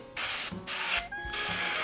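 An aerosol spray can hisses in three close bursts with short pauses between them while painting a Dragon King miniature from Kingdom Death: Monster.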